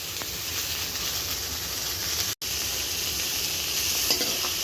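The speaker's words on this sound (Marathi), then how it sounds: "तर त्यासाठी मी तेलावर छान असं खरपूस होईपर्यंत भाजून घेणार आहे" Onion, coconut, garlic, ginger and coriander roasting in oil while being stirred, giving a loud continuous sizzle with scraping stir noises and one brief break partway through.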